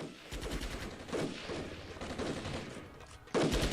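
Rapid bursts of gunfire and distant artillery thuds in the war strategy game Armored Brigade, repeated volleys crackling at moderate level, ending in a louder, heavier salvo.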